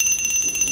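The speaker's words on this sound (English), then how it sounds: "They handed out these bells at the wedding" Small wedding bells ring close by with a bright, sustained metallic tone in one short, continuous jingle and no voices over it.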